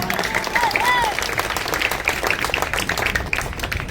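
An audience bursts into dense, sustained applause throughout, many hands clapping at once with scattered cheers at a mimicry performance.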